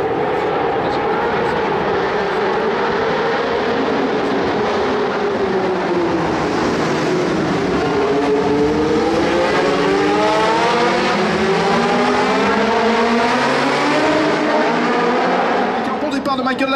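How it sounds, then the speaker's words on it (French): Historic race cars, including a Ferrari 312 B3, roaring off the start at the Monaco Historic Grand Prix, a loud continuous engine wail that rises and shifts in pitch as the field accelerates, with a commentator talking over it. "Bon départ de Jean Alesi avec la Ferrari 312 B3"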